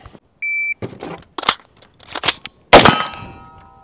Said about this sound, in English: So I'm gonna pick it up and quickly just pull it to the rear, let it go